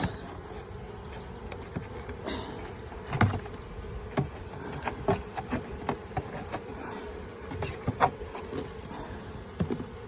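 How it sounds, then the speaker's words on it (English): Steady honeybee buzzing from a disturbed new hive fills the background, with scattered louder bursts as individual bees pass close to the microphone. "I just made a mess there with bees"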